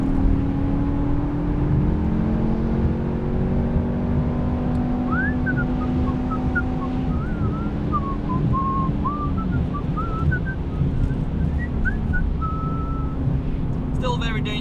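Mercedes Brabus 700 cruising fast on a German Autobahn, heard from inside as a steady loud engine and road drone with a whistled tune over it midway and a brief clatter at the end.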